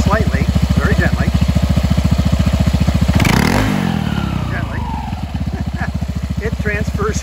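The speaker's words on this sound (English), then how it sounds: "here's the CVT in operation" A 2013 Honda PCX150 scooter engine runs steadily with its CVT belt turning, a close, even throbbing pulse that briefly swells with a clattering rush mid-clip before settling back into the rhythmic putter.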